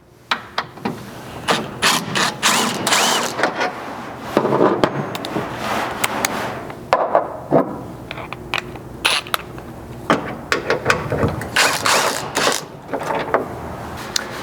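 Ratchet wrench turning out the Torx T55 bed mounting bolt and T40 cargo tie-down hook bolt on a 4th gen Toyota Tacoma, repeated close bursts of sharp clicking in uneven runs with brief pauses, no talking.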